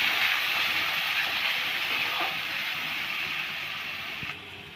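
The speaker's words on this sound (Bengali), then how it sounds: "তেলটা গরম হয়ে গেছে। দুটো তেজপাতা, শুকনো লঙ্কা, জিরে, গোটা জিরে, পেঁয়াজ" Bay leaves, dried chilli, whole cumin and onion sizzle in hot oil, a steady, fairly close hiss that eases slightly over a few seconds.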